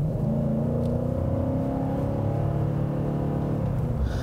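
A 2017 Nissan Titan's 5.6-liter V8 revs steadily, a loud, close, continuous rumble with a rising drone and no talk.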